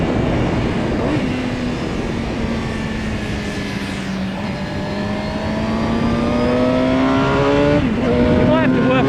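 A 2002 Suzuki GSX-R 750 K2 motorcycle engine rolling through a race track pit lane, a steady loud drone with the pitch gently rising and falling, close by and continuous.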